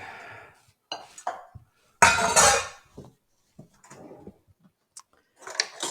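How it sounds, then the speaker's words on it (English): Boiled, drained potatoes for a vegan shepherd's pie tumble into a pot with one loud, clattering thump. Smaller clinks and knocks of cookware come before and after it, with quiet gaps in between. "And dump those potatoes in here."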